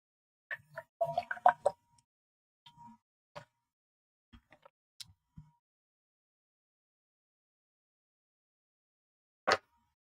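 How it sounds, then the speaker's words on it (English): Someone drinking water from a glass or bottle: a few close, quiet sips, gulps and small liquid plops over near-silence, followed by scattered soft clicks and a louder clunk near the end, with no talking. "I'll drink some water first"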